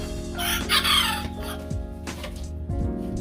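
Chickens cluck and call from a backyard coop, a close, loud run of hoarse, crowing-like cries and clucks that carries on throughout.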